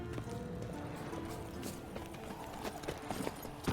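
Roach, a horse in The Witcher video game, gallops with a steady rapid clip-clop of hooves under a dense, busy game soundscape, with no one speaking.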